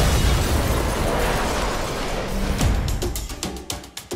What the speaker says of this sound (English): It's a very small bomb.